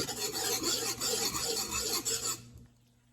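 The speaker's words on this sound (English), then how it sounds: "Bring out the whisk. You want to get this whisked in." A whisk scrapes rapidly and steadily around a pan of Oscar sauce for shrimp, giving a close, continuous rasping sound that stops abruptly near the end.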